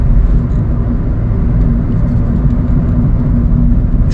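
A Chevrolet City Express LT cargo van drives along with a loud, steady interior engine and road rumble, a continuous low drone with no talking.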